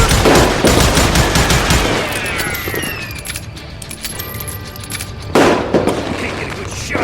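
Rapid gunfire from the Western shooter game Call of Juarez Gunslinger, dense crackling bursts with ringing tails that ease off midway, then a fresh loud volley near the end.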